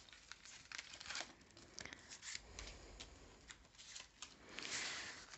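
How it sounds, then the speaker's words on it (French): Tarot cards shuffled, slid and laid down on a table in a close, quiet run of papery rustles, flicks and soft taps, with no talking. "enfin je vais remettre trois cartes"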